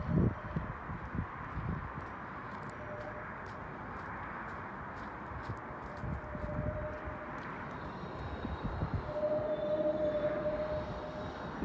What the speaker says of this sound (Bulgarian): Отдолу трамвая минава.